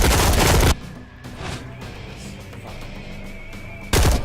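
Gunfire rings out in the video game Dark, with a loud burst of rapid shots at the start, quieter scattered sounds in the middle and another loud volley at the end.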